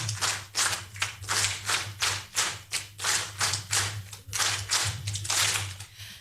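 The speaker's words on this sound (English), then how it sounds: "it's a 5-factorial clap for the keynote speaker" Audience at an international conference on women's economic empowerment claps in unison for the keynote speaker, about fifteen loud, rhythmic group claps in steady succession with a low hum underneath.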